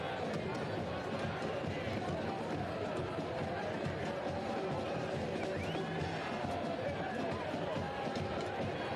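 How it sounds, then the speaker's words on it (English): A dense soccer stadium crowd roars steadily throughout a Portland Hearts of Pine versus New York Cosmos USL Cup match, with a commentator talking over the constant wash of cheering. "You hear the crowd now."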